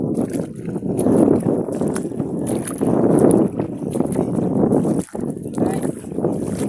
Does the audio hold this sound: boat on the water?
yes